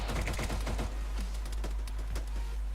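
Gunfire in the video game Arma 3: rapid clusters of distant crackling shots and short bursts, fairly faint over a steady low hum, with no talk.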